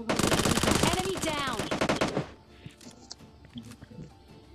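Loud rapid automatic gunfire from a SCAR rifle in PUBG Lite, a dense close burst lasting about two seconds before cutting off to quieter game sounds and scattered clicks.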